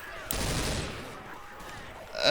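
A single loud gunshot goes off in the video game Left 4 Dead, followed by a decaying burst of noise and a rising sound at the end.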